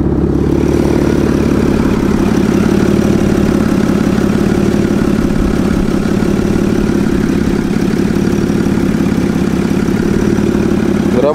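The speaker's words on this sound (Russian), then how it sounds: "Сразу же покажу работу двигателя." A 2008 Volkswagen Touareg SUV engine runs steadily at idle, loud and close, with a constant low rumble and mechanical hum and no voices.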